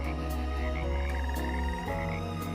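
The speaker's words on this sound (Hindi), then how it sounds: "जनवरी से लेकर अप्रैल महीने तक इनके टर्राने की आवाज पूरे जंगल में गूंजती रहती है।" Frogs croak in a dense, droning chorus, steady and loud, with rhythmic pulsing calls layered over one another.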